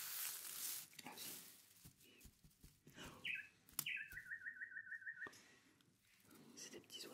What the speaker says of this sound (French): C'est des petits oiseaux.